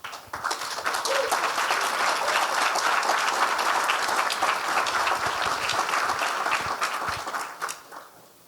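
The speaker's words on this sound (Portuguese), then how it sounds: "Obrigado pelas palmas" A lecture audience at a seminar breaks into applause, many hands clapping in a full, steady roar that swells quickly, holds, then tapers off near the end with no talk over it.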